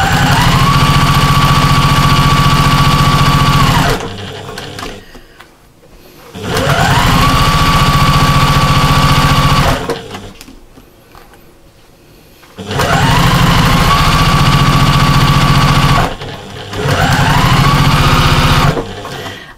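A sewing machine stitches a half-inch seam along a cushion front in long steady bursts, loud and close, with brief pauses between runs and a whining pitch as the motor ramps up and slows.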